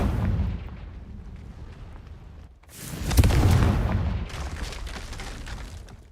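Confringo fire spell blasts in Hogwarts Legacy, a heavy rumbling boom that swells partway through, with crackling, roaring burst noise over a continuous low game background, loud and close.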